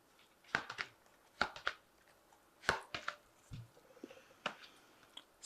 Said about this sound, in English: So I'm just going to draw some cards from the Animal Tarot.